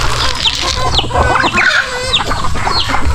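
Roosters on a Philippine farm cluck and squawk in short repeated bursts, close and fairly loud, over a steady low rumble of farmyard background.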